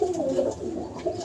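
Ailing pigeons that caught a cold give low, throaty coos close at hand, several rolling calls overlapping without pause.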